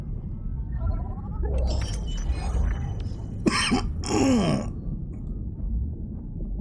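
A single cough lands midway through, with a soft throaty rasp and vocal sounds around it, over a low steady background rumble.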